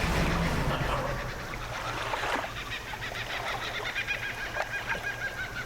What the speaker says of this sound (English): Sounds like tropical birds there.